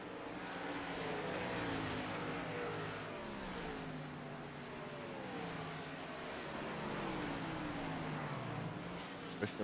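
Race car engine in an Output Racing League sim racing game sweeping past in the background, its pitch rising and falling, a steady continuous drone with no talk over it.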